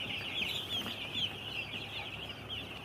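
Broiler chickens on a poultry farm cluck and chirp together as a steady, fairly quiet flock chatter with no speech.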